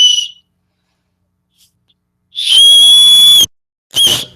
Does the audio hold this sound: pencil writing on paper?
no